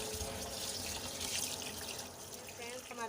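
About a kilo of rice is washed in water: steady running and sloshing water, faint and continuous, with light trickles near the end.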